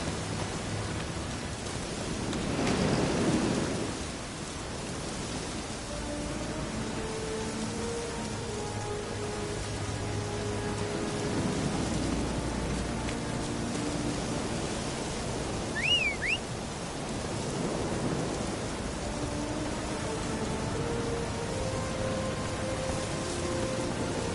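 Light drizzle falls steadily in The Witcher 3, a soft, even hiss of rain on surfaces with a faint whistling tone rising briefly partway through.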